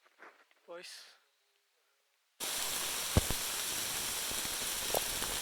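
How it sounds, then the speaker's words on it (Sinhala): Heavy rain pours during a New Year's Day climb at Sri Pada. After a couple of seconds of brief voices and silence, a loud, steady, close hiss of rainfall starts abruptly and continues to the end. "සුපිරි වැස්සක් යනවා වටේටම සුපිරිම වැස්සක් යනවා"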